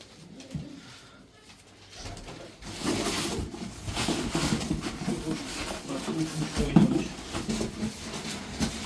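Racing pigeons coo in a loft in low, rolling murmurs, with faint handling noise, a brief clack near the end and muffled background voices.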